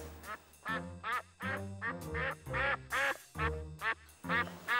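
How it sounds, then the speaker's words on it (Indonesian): A duck quacks loudly and repeatedly in a drama scene set around a duck pen at a house, with roughly eight close, bursting quacks in an uneven rhythm and no talk over them. "Suaranya bebek."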